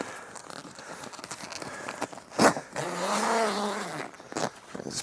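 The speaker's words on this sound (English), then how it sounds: "we're just going to unclip the ladder here and unzip it completely" The zipper on an ARB Flinders roof tent is pulled open. It gives a close, rasping drag with a few sharp tugs and rustles of tent fabric.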